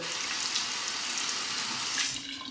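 Parker 45R safety razor held under a running tap, with a steady, loud rush of water splashing in a sink throughout, fading slightly at the end, no speech.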